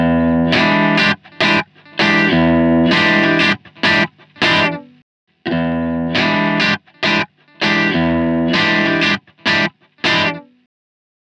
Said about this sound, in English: Do you prefer preamp distortion or do you prefer power amp distortion?